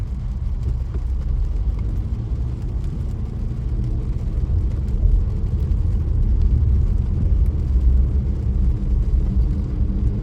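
Dense morning traffic crossing a bridge alongside construction trucks and container trucks, heard as a steady, loud low engine rumble that continues without a break.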